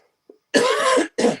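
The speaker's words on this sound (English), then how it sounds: "Sorry for coughing." A person coughs twice in quick succession, close and loud, the first cough longer and the second shorter, preceded by a faint brief sound.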